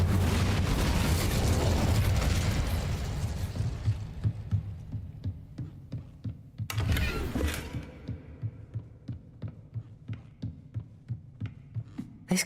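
The Incendio fire spell goes off in Hogwarts Legacy as a loud rumbling burst that fades over several seconds. A second sharp whoosh follows, then a run of regular soft thuds like a heartbeat.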